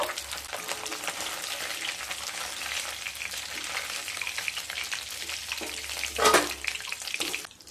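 A fish head frying in hot oil gives a close, continuous crackling sizzle, with one louder splattering burst near the end and no voices.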